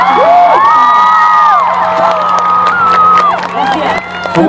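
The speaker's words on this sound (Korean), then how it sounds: "Quiero un gran aplauso con todos los staff que han" A concert crowd at Super Show 5 in Peru cheers loudly and steadily, with high shrill screams and whoops rising over a dense roar of voices.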